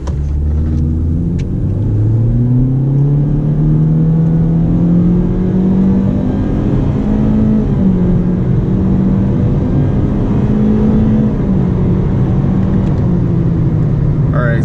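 A 2020 Honda Civic in sport mode accelerating onto a highway, heard from inside the cabin as a loud, steady engine drone that climbs in pitch and holds strong for the whole stretch.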